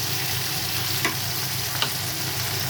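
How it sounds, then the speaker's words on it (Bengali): Onion, nigella seeds and green chillies sizzling in oil, a steady close hiss with two brief stirring scrapes, no voices. "একটু ভাজা হয়ে যাক।"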